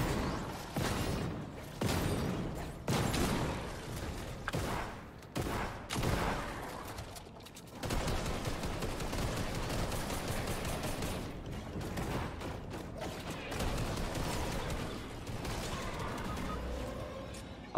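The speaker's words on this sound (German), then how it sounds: "Ah, Kopfschuss mit der Pistole." Pistol gunfire in Fortnite: dense volleys of shots and impacts crowd the opening seconds, followed by sustained busy battle noise with scattered sharper reports, loud and close throughout.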